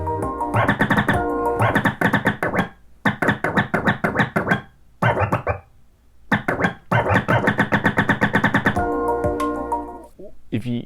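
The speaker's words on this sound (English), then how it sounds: "It just doesn't sound right when you actually manipulate the jog wheel back and forth" Music on a Pioneer DDJ-FLX6 DJ controller with Merge FX engaged is dragged back and forth on the jog wheel, producing loud, choppy stuttering bursts of the track separated by brief dropouts.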